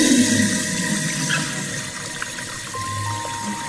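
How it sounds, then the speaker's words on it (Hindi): Water gushes fast from a cartoon robot's outstretched hands, as if from a pipe, to put out a fire near a house: a steady, fairly loud rushing wash that holds for the whole moment. "पानी हाथों से तेजी से निकलने लगा, मानो पाइप से निकल रहा हो"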